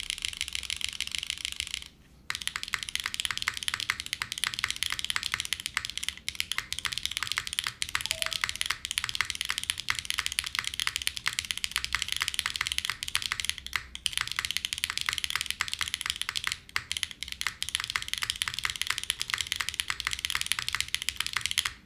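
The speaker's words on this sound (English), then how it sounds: "They're very loud switches." Rapid, continuous clacking of loud mechanical keyboard switches on a Mode Loop TKL keyboard with no foam, typed fast, with a brief pause early on and otherwise unbroken rhythm.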